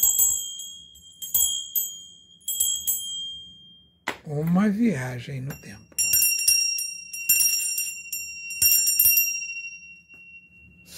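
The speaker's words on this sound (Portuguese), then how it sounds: "O sino e a sineta." Several bright, high bell rings, small collectible bells and a hand bell struck in short bursts with a pause, then a quick run of tinkling rings; a person speaks briefly between them.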